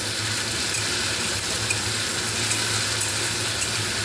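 Fish frying in a pan for a spicy fish curry, a steady, even hiss and sizzle of hot oil that holds constant without pause, close and moderately loud.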